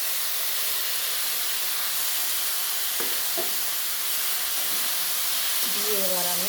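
Drumsticks, potato and brinjal dropped into a hot pan, a loud, continuous hissing sizzle with a couple of brief clanks of utensils midway and a short voice near the end.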